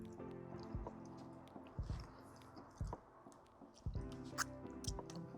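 A chunk of charcoal-grilled sardine with crispy skin and mint and chili salsa being chewed, giving close, wet crunching bites in an irregular rhythm over faint background hum.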